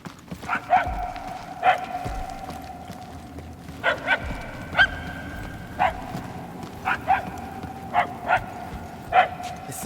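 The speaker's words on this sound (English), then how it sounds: "The barks are getting louder, at least." Dog barks ring out repeatedly in Marvel's Guardians of the Galaxy, a string of clear, evenly spaced single barks at moderate distance over low game ambience, with characters talking in between.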